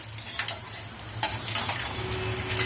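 Fenugreek and radhuni seeds stirred in a pan for a Bengali shukto, giving soft scraping and rustling with light sizzling, close and fairly quiet, with no talking.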